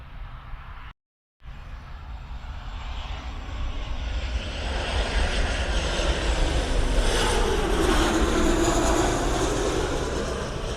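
Passenger airliner landing at Gold Coast airport, heard from a distance: a jet engine roar that builds gradually, swells loudest through the touchdown, then holds as a broad rumble.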